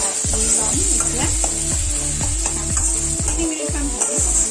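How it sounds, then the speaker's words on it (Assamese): Food with spices and a seed paste fries in a pan, a loud steady sizzle under rhythmic stirring strokes that scrape and clack about twice a second, close up. "3 মিনিটমান ভাজি।"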